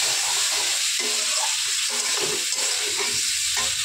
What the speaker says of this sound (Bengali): এবার একটু কষিয়ে নেব, আলুটা ভালো করে কষিয়ে নেব।